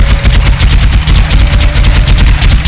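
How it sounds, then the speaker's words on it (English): A chain gun in the space game Starforge fires as a loud, rapid, continuous stream of shots in an even mechanical rhythm, close and alone. "Yay, chain gun. It has a bit of a spin up time, and then it's not that fast."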